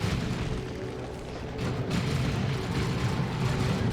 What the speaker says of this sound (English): There's that sweeping doom and a Black Grenade thrown in there too.